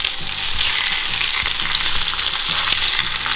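Steady, loud sizzling of squid frying in a hot pan over medium heat, with crackling spatter throughout and a few faint clinks from a utensil.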